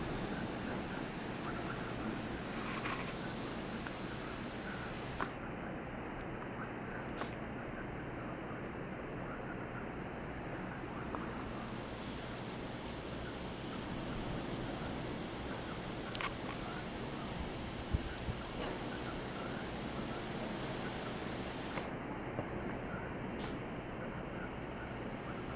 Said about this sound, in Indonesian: Ih, angin gede banget